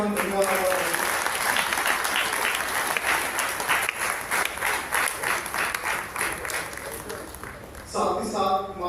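An audience at a donation ceremony at a Buddhist meditation centre in Nanded district claps for donors: sustained, dense applause that fades toward the end and is followed by a short tonal sound.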